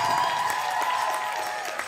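Audience at a university powwow applauds a third place dance winner, a steady wash of clapping from a moderately distant crowd lasting the whole moment.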